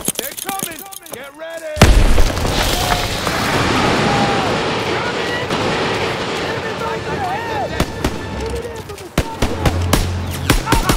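A heavy grenade blast erupts in Call of Duty WW2 after a moment of shouting, followed by a long roaring wash of gunfire and battle noise with voices yelling over it.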